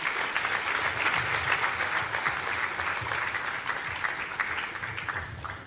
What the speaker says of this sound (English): Please give a big round of applause to all of them.